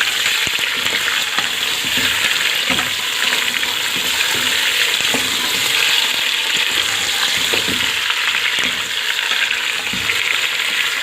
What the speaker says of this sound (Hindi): अब गोश्त को इसमें हम अच्छी तरह से भूनेंगे।